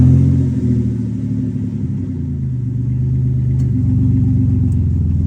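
A 2006 Chrysler Town & Country minivan idling steadily nearby, a continuous low engine rumble with a slight rise in tone as it is shifted into reverse.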